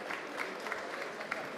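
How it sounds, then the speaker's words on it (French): Audience applause fills a hall at a trade-fair presentation of a white paper on sustainable construction in France's overseas territories, held at BATIMAT. Dense, steady clapping rolls on throughout with no gaps. "Sous vos applaudissements, s'il vous plaît."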